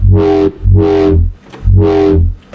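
A heavily distorted synthesizer tone, gritty and dissonant, hits in three loud sustained bursts separated by short gaps, with a quick fourth stab cut off at the end.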